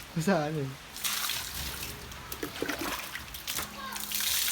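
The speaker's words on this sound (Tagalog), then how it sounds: "Dahil bagsak yung tubig eh." Water splashes and trickles down during outdoor cleaning at a house, with uneven spattering bursts, while voices talk nearby and a voice is heard.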